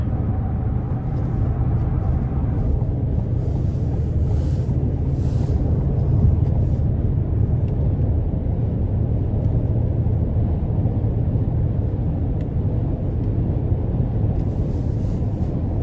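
Steady low rumble and road roar inside a 2022 Cadillac Escalade Sport rolling over a bumpy ramp, a dense continuous drone with faint wind noise and no distinct jolts standing out, and no voices.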